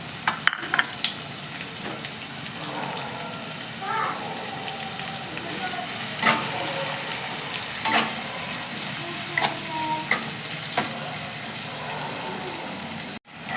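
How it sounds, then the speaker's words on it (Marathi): Onion and curry leaves sautéing over medium heat in a pan for a crispy inverted vada pav, a steady close sizzle and frying hiss with scattered stirring scrapes and clicks, no voices. "कांदा आपला परतलेला आहे."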